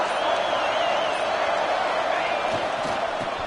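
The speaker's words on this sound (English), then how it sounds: "Listen to the crowd energy here in the early going." Crowd noise fills a college football stadium during Tennessee versus Oregon, a constant loud roar with scattered thumps and bursts and no letup.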